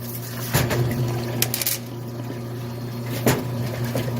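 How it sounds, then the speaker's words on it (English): Small cadmium-plated dust-shield bolts from a 1984 Mercedes 300CD are swirled in a cup of cleaning liquid, with occasional light clinks and sloshes over a constant low mechanical hum. "You just put them in a cup and you wash them around a little bit."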